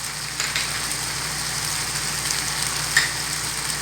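Chicken and vegetables, including green and red bell pepper and carrot, frying in a pan, producing a steady close sizzle with a few brief pops and no talking.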